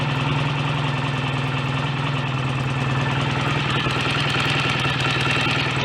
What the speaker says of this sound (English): So we're at a sort of fast tick over speed there, I guess.